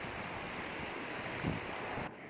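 Sea waves wash onto a beach in a continuous soft broadband rush, quiet and distant, with a brief louder swell midway and wind-like hiss throughout.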